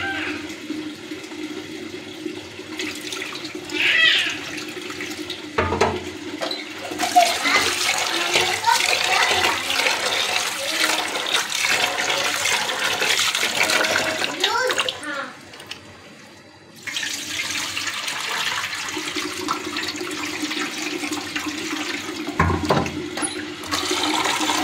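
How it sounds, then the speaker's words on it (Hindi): Water runs and splashes while broken wheat (dalia) is washed for cooking, rushing in two long loud stretches broken by a quieter gap with a few clunks, and someone talks briefly around it. "पहले दलिया वॉश कर लूँगी।"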